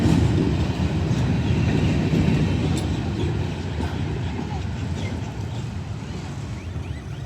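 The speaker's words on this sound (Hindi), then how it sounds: "बदामी बाग में आज दूसरा रेल एक्शन हमें मिला फ्रेट ट्रेन का" A freight train with wagons loaded with coal, some carrying containers, rolls past at Badamibagh station with a steady low rumble and faint clatter, fairly close and continuous throughout.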